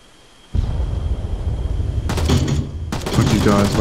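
Gunfire in the Arma 3 multiplayer game King of the Hill: a dense rumbling stream of distant shots and booms runs throughout, joined by two loud close bursts of rapid automatic fire.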